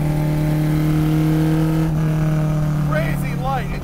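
A vintage Alfa Romeo GTA race car engine warms up with a steady, loud, close idle drone and a brief rise in revs near the end, while a person talks over it.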